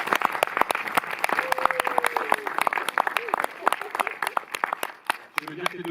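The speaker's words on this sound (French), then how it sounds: "j'ai envie qu'on applaudisse ED Distribution" An audience in a Montreuil cinema applauds after a film screening: sharp, dense clapping from a modest crowd, close and continuous, with a voice briefly audible beneath it before it thins at the end.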